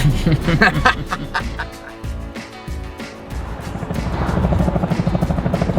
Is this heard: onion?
no